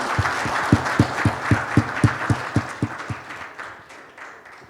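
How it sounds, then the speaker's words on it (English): A small audience at a conference panel discussion applauds the panelists, its distinct individual claps landing in a regular rhythm before tapering off into quieter room noise. "Let's give our panelists a round of applause"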